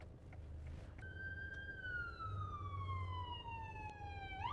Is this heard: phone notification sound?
no